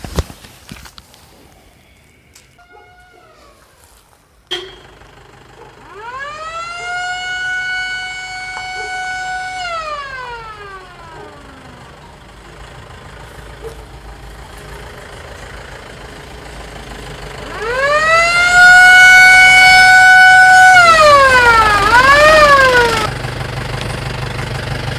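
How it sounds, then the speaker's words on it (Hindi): Forest department siren wailing through a mountain village to warn residents of a tiger, two long rising-and-falling blasts separated by a quiet gap, the second louder and nearer, with a faint engine hum beneath. "ये सायरन बजा करके गांव वालों को सूचना"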